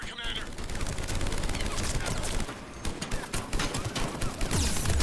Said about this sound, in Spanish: ¿Quién me está disparando desde atrás?